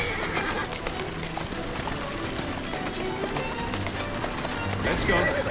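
A horse neighs and its hooves clatter at a run in the Assassin's Creed Syndicate video game, loud and close, with a voice talking over it.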